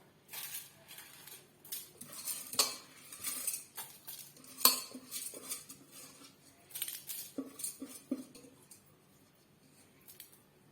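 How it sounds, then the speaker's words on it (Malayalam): Washed rice being scooped into a vessel in a home kitchen, heard as close, intermittent clinks and scrapes of a utensil against dishes with soft wet shuffling, fairly quiet. "വേണ്ട അരി നല്ലതായിട്ട് കഴുകി വാരി നമുക്കൊരു പാത്രത്തിലോട്ട് മാറ്റിയിടാം."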